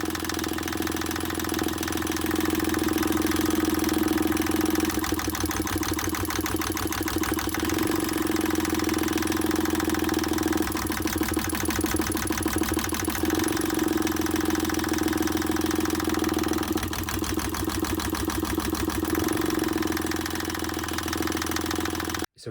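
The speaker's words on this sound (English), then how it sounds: "we were actually able to start the engine for the first time." A marine diesel engine runs steadily on its first start after the injectors began delivering fuel. The loud, continuous idle knocks rhythmically and rises and falls slightly in pitch throughout, ending abruptly.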